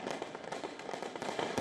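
Fireworks thrown at police during riots in France crackle and pop in a dense, continuous burst, heard from a distance under a wash of crowd noise.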